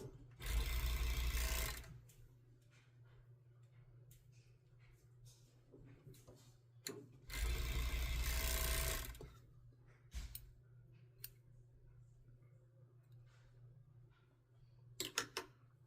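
A sewing machine stitches the short ends of dress straps placed right sides together, running in two loud, steady bursts of about one and a half seconds each, with quiet handling noise and small clicks in between.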